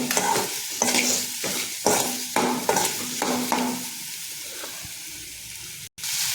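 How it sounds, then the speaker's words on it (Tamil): Okra and egg fry in oil over low heat, stirred in a regular rhythm of scraping strokes about twice a second, before the sizzle settles to a quieter hiss. "இப்போ இதை வந்து கொஞ்சம் எண்ணெய் இடைச்சி வந்து நல்லா கிண்டி விடுங்க"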